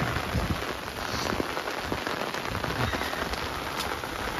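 Steady rain pours around a barn during flooding, a dense continuous hiss of drops drumming on surfaces with a few sharper close splats, loud and unbroken with no voices.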